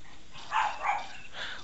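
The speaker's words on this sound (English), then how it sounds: "Both my dogs are barking." Two dogs bark in a few short, muffled bursts that sit somewhat in the background of a steady noisy room tone, with no talking during the barks.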